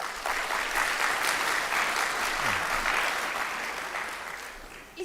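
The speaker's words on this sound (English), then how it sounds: "Please give an even bigger round of applause" An audience at a green transition strategy launch event applauds, a steady wash of clapping that holds for several seconds before tapering off near the end.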